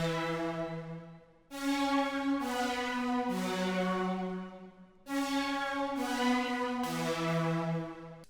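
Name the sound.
synth pad in FL Studio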